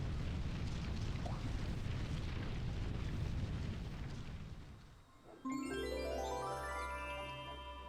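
An enemy explodes in Super Mario Sunshine, a long, loud, rumbling blast that fades out and then gives way to a bright rising chime of notes.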